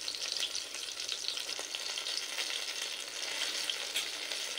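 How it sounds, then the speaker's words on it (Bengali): Eggplant pieces being browned in hot oil, frying with a steady, even sizzle and crackle throughout at moderate loudness, with no voices. "তো আবারও বেগুনগুলো ভেজে নেব, বাদ বাকি বেগুনগুলো ভেজে নেব।"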